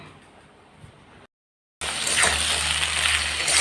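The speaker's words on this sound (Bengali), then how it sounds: "তো আলু বেগুনটা একটু ভেজে নিচ্ছি প্রথমে" Potatoes and eggplant frying in a pan, a steady broadband sizzle that starts abruptly after a short silence and holds loud and close, with a quieter kitchen hiss before the gap.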